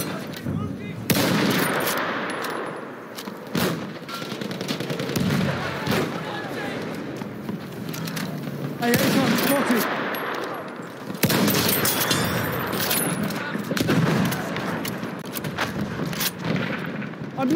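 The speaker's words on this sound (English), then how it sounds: "I'm seeing pom-pom guns." Pom-pom guns hammer away in rapid, rolling bursts during a Battlefield 1 Conquest battle, loud and dense with overlapping gunfire and explosions throughout, with intermittent pauses between volleys.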